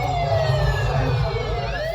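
A police car siren wails continuously with sweeping rising and falling tones over a steady low vehicle rumble, loud and close throughout.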